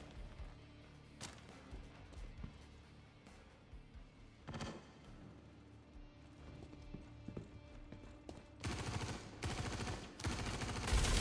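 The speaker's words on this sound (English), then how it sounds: "Where are those shots from?" Distant gunshots in a shooter video game, scattered single cracks at first, then a dense burst of rapid fire near the end over quiet background ambience.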